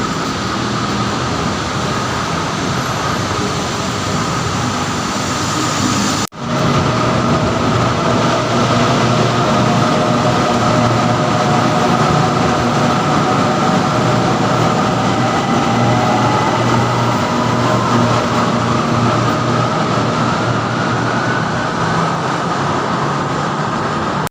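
An elevated skytrain in Thailand rumbles past for a long stretch, heard from a skywalk, a loud steady roar of wheels and motors with a rising whine, broken once by a brief dropout.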